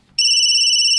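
A cellphone ringtone bursts in abruptly, a loud, steady electronic tone that holds without pause after a moment of near silence.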